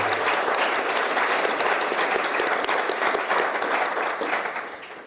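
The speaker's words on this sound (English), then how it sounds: "I would love to get a round of applause" An audience at a wildfire safety meeting gives a round of applause, dense steady clapping from a crowd that fades slightly near the end.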